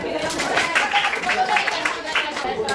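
Children clap their hands together in an Indonesian classroom lesson, a scattered run of claps with a teacher's voice and chatter mixed in over the top.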